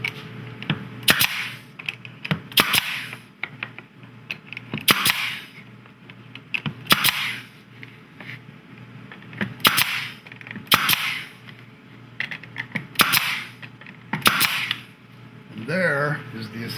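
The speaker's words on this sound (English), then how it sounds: "Now we're going to grab the nail gun and we're going to shoot some brads." A pneumatic nail gun fires brads into assembled wooden frame-holder pieces in a jig, sharp close pops arriving singly and in quick pairs at irregular intervals.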